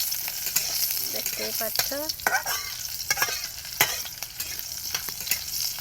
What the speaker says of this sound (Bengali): ভেজে নেব কাঁচা লঙ্কাটাকে।